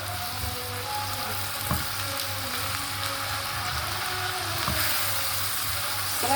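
Tomato sauce with cumin and chili paste sizzling steadily in a pan as it is stirred, a loud continuous fry with occasional clinks from the spoon and no voices.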